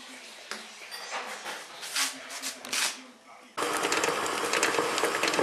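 An electric mixer whirs as it softens butter for buttercream, starting in uneven bursts under a voice and then settling into a steady, loud, continuous buzz near the end.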